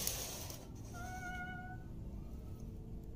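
A cat meowing outside a house door at night: a single drawn-out, wavering meow, fairly clear over a low background hum, with no talk.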